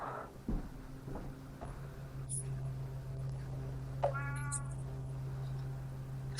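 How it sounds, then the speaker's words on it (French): A cat meows inside an abandoned house, a few short calls early on and a longer, clearer meow near the middle, fairly faint over a steady low hum in a quiet room. "Oh là, il y a le chat, il est en train de..."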